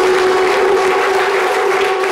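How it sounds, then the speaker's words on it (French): An audience claps in dense, steady applause that stays loud and close throughout, with no voices rising above it. "Déjà, on va vous applaudir pour ce que vous faites"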